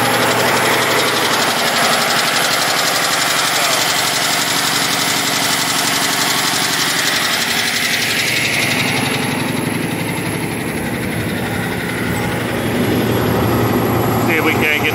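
Cummins ISX 870 diesel engine held near 1400 RPM with injector tapping, a loud steady rumble and clatter running throughout, dipping briefly partway before building again.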